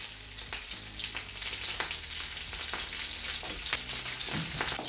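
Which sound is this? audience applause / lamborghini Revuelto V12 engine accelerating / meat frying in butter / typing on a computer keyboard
meat frying in butter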